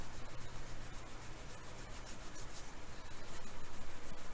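Steady scrubbing of a Hallicrafters S40 radio chassis during restoration cleaning, a continuous close rubbing and brushing texture that runs evenly throughout without any talk.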